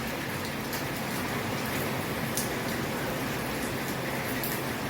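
Heavy rain pouring down at a rural bus stop, an even, unbroken hiss of downpour with scattered drops pattering close by.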